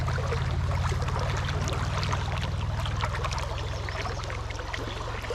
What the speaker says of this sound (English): I think the water's moving a little too quick over here.